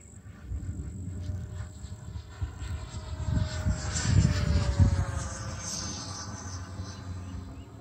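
A Freewing MiG-21 model jet flies overhead outdoors, its ducted-fan whine swelling as it passes close and fading away, over a steady bed of wind and insect noise.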